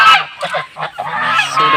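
Geese at the Nagshankar temple pond, a flock of over two hundred, give loud, close, overlapping honks in quick bursts.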